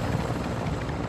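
Helicopter rotor and engine drone in Call of Duty: Modern Warfare II, a steady close rumble that holds for about a second before a brief sharp burst at the end.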